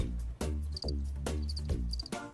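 A cricket chirps in short, evenly spaced high trills, repeated several times over a low steady background hum.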